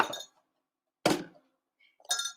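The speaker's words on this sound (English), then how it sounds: "And then I store it inside of a glass mason jar, just like this." A glass mason jar clinks sharply three times as it is handled in a kitchen, each bright chink ringing briefly and close, with near silence between.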